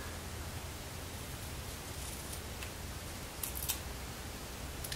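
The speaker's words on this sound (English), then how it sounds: "Too bad I didn't use longer scissors." A few quick, crisp snips of scissors cut through near the end over a steady hiss of background noise.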